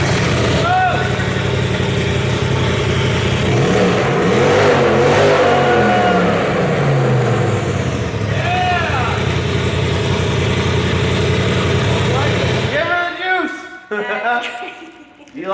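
A turbo UTV fitted with an Evo Captains Choice exhaust revs loudly and repeatedly, rising and falling blasts over a rumbling idle, before cutting out near the end as people talk and shout.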